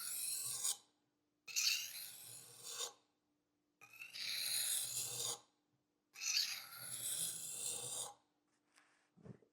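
A kitchen knife blade scraped along a whetstone in four long rasping strokes, each around a second or more and separated by short pauses, close and fairly loud, with no talking.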